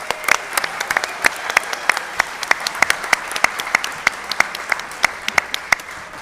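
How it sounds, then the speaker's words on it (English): A town hall audience gives a round of applause, steady mid-sized clapping with sharp individual claps standing out, continuous throughout at close range. "I think we need one other round of applause, and I think that's for you, the audience."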